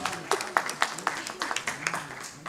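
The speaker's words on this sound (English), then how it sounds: "Give a round of applause, guys." An audience claps at a medical talk on knee pain in Kolkata, sharp uneven hand claps repeating steadily at a moderate level with voices in the background.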